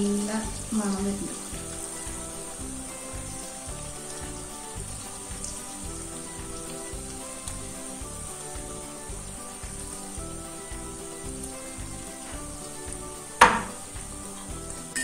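Chili garlic chicken frying in coconut oil, a steady soft sizzle running throughout, with a brief sharp clink near the end and faint background noise.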